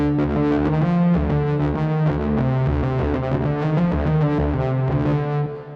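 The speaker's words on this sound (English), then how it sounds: "distortion, delay, and reverb" A gritty synth bass, processed with a distortion plugin plus delay and reverb, plays a repeating melodic line, with echoing repeats and a reverberant tail that fades at the end.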